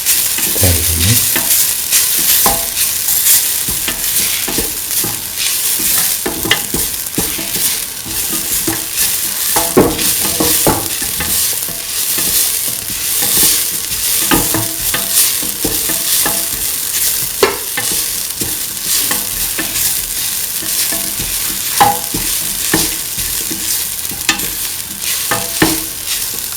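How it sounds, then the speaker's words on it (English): A potato, green pea and coconut rice mixture is stirred and scraped in a pan on the stove, with soft sizzling and a continuous busy clatter of the spoon throughout. "Thoroughly mix."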